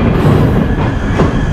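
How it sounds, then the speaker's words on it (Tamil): Train rolling along rails on a curve, a dense, continuous rumble of wheels and carriages close by, with no voices over it. "அழகாக அந்த அப்படியே வளைஞ்சு போகுது ட்ரெயின்"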